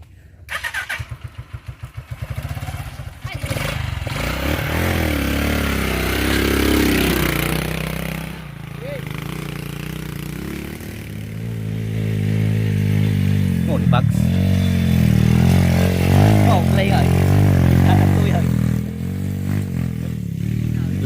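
A small motorcycle engine sputters to life and runs with a buzzing, uneven idle, revving now and then while people talk over it.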